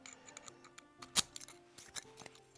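Keys being tested in a re-keyed Yale lock cylinder, heard as quiet metallic ticks and clicks, with one sharp louder click partway through and a few smaller clicks after it.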